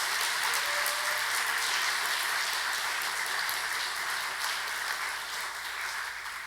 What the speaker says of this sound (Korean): 박수 한번 크게 쳐드릴까요?